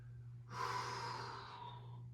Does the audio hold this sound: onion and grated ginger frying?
no